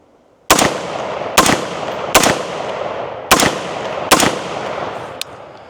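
Hi-Point HP-15 AR rifle firing five sharp shots outdoors at 40 yards, spaced roughly a second apart, each loud crack followed by a ringing echo tail.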